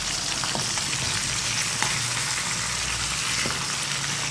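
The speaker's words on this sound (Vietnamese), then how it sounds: "Mình rán với lửa vừa đấy các bạn nhé, để cho nó đỡ bị cháy." Chicken feet fry in a pan of oil over medium heat, giving a loud, steady, dense sizzle with occasional pops and crackles and no talking.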